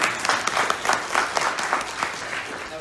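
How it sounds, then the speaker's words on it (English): An audience at an animal rights conference applauds, a steady wash of many hands clapping close and loud for a few seconds with no talking over it. "Please give yourselves a round of applause."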